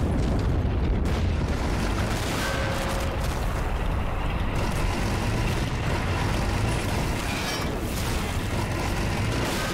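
Bazooka blasts destroy tanks at close range in the Army Men video game, producing a dense, continuous rumble of heavy booms and crackling bursts that overlap throughout a large tank assault.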